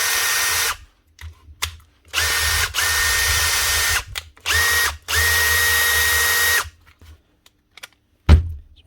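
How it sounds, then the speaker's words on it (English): A repaired Makita DDF083 cordless impact driver gearbox whirs in several short bursts of steady motor running, separated by pauses, with a sharp clack near the end and no speech. "Old gearbox, now running smooth."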